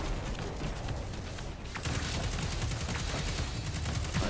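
Gunfire from the video game Destiny 2 crackles in dense, rapid bursts, a loud continuous barrage of sharp shots layered over game effects throughout, with no talking.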